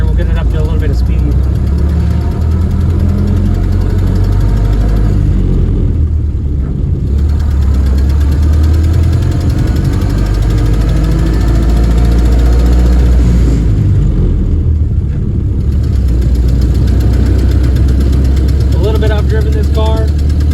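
Engine of a 1929 Ford Model A building speed on the road, a steady low mechanical drone and rattle that swells and settles over about twenty seconds, with someone talking over it at times.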